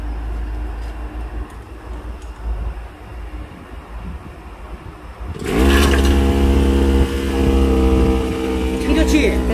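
After several seconds of low background hum, a brush cutter engine fitted with a high-pressure sprayer attachment starts up and runs loud and steady close by, with a strong buzzing drone.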